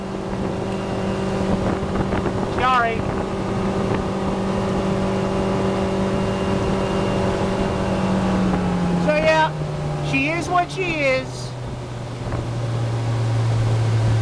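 A 2007 Suzuki DF140 outboard pushes a 2002 Sea Pro 180 DC boat across calm, glassy water during a sea trial, holding a steady high-rpm drone. Someone talks over it, and the pitch drops slightly near the end.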